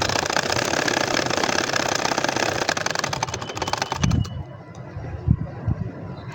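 A regular sewing machine runs steadily, stitching a double potol-pata nakshi kantha quilt, a dense close mechanical whir for about four seconds before stopping, followed by a few faint clicks and handling knocks.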